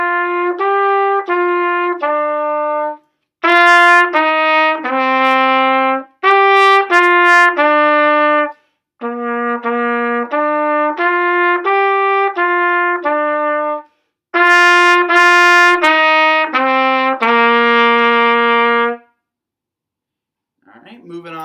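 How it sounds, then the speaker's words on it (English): A trumpet plays a practice exercise slowly as a string of clear, separate notes grouped into short phrases with brief gaps between them, loud and close with no voices over it. "So I'm going to play it for us one more time, a little bit slower for learning purposes."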